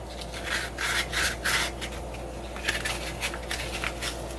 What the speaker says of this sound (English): then give it a little bit of sanding